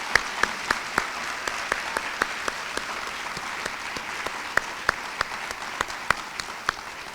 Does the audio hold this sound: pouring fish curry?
no